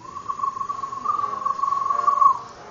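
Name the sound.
whistled bird imitation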